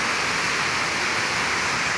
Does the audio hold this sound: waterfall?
yes